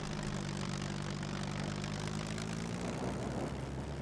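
An aircraft engine idles during a landing approach in the SCUM video game, a steady droning propeller hum under rushing wind noise, faint and continuous, no talk.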